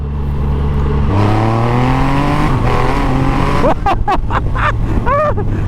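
A supercharged Triumph Rocket 3 motorcycle accelerates hard with its rear wheel spinning, the engine note climbing steadily in pitch and staying loud and close, then a voice speaks over the engine noise toward the end.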